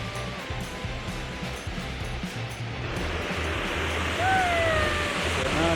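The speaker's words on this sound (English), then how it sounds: "we found a waterfall" A waterfall rushes steadily in the background along a walking trail, a broad continuous hiss that swells slightly toward the end, with a faint whistle-like tone over it.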